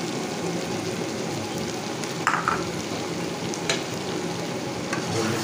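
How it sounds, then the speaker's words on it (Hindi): Chopped onions sizzle in a hot oiled pan for bhindi do pyaz, a loud steady frying hiss with a few sharp scrapes from a spoon stirring, no talking. "फिर इसके अंदर हम डाल देंगे प्याज"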